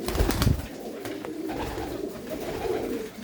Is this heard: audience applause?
no